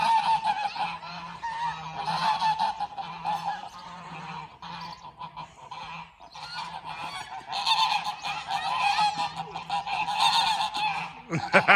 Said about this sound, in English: Fox chasing Pete the goose